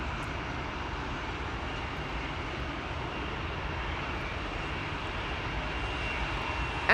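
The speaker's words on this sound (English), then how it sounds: "this is KLM to Hanover, the Embraer 175" A KLM Embraer 175 jet at Amsterdam Schiphol airport produces a steady, broad engine roar at moderate distance, holding even for several seconds with no voices.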